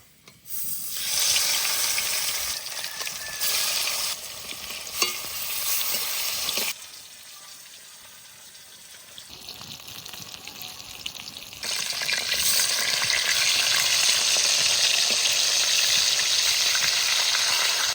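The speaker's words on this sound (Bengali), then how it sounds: "তেল ভালো করে গরম করে নিয়েছি, এবারে মাছ দিয়ে দেবো।" Large pieces of chital fish belly fry in hot mustard oil in a pan. The loud, crackling sizzle eases into a quieter stretch, then swells back to a steady, vigorous frying hiss, with no talking.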